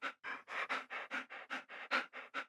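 Fast, rhythmic breathing sound effect, a dozen quick even huffs in a row like heavy panting, close and fairly loud with no talk.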